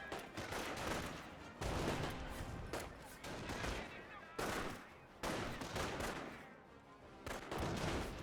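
Repeated bursts of gunfire in Company of Heroes, heavy volleys of rifle and machine-gun fire cutting in and out over several seconds, loud and close with brief lulls between salvos.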